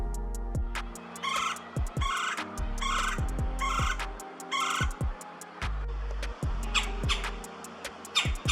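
Woodpecker calls from pileated, red-bellied or downy woodpeckers, a series of sharp, repeated call notes in quick groups with short pauses, clear and fairly near, with no one talking.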